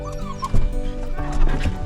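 An excited dog on a coastal walk at Hengistbury Head in Dorset whimpers and yips in short bursts close by, with a person's voice speaking over the sounds.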